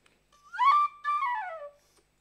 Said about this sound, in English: the tin whistle, and it's about as basic as you can get, just a stick of tin